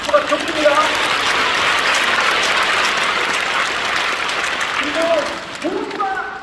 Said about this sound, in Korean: 박수가 좋습니다.